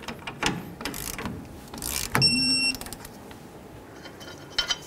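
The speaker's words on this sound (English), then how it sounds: "then we're going to go ahead and torque them to 14 foot-pounds" A torque wrench clicks and ratchets while tightening outer tie rod bolts on a 1992-2000 Chevy Tahoe, with short mechanical clatters, a brief ringing metallic tone midway and scattered handling noises, close and without talk.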